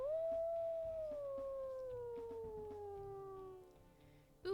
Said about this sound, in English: let's go ahead and we'll listen to his howls